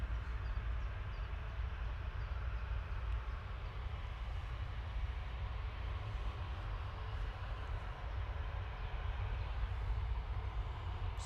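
An air tanker aircraft taxis slowly around a corner at Manchester Airport, giving a steady, loud, broadband engine roar with a deep low rumble that holds constant throughout, with no talk.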